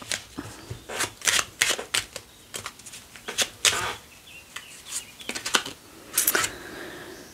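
Oracle cards being shuffled by hand in a series of crisp riffling bursts and soft slaps, close and clear, with brief pauses between shuffles and no speech.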